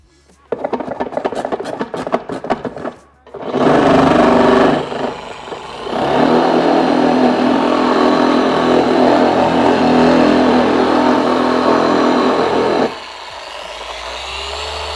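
Dual action polisher cutting paint on a car hood, with a damp pad: after some handling clatter, the machine whirs up loudly, runs in a steady close drone for several seconds, then cuts off abruptly.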